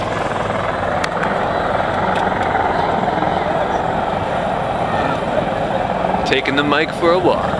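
At a helicopter airshow finale, a CH-53 with seven rotor blades spools up in the distance, a broad, steady turbine roar that fills the air under a public-address announcer's voice, with a brief rising whine near the end.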